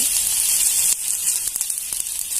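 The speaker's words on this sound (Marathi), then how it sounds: "इथं थोडंसं आपल्याला परत तेल घालून घ्यायचं आहे याच्यात थोडेसे जिरे आणि मोहरी घालून घ्यायची" Cumin and mustard seeds sizzle and crackle in hot oil for gram flour okra, a steady bright frying hiss with a few sharp pops, close and continuous with no talking.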